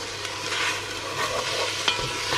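Garlic cloves sizzle in a pan with a soft, steady frying hiss, close by, and a sharper clink or stir near the end. No one speaks.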